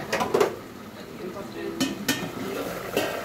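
Curry stirred in a pot, a handful of close metallic scrapes and clinks of a spoon against the pot over a faint sizzle, spaced irregularly.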